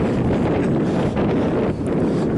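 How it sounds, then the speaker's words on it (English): Strong desert wind buffets the microphone in a loud, continuous, low rumbling roar with slight gusty swells and no voices. "Oh, it's a bit windy."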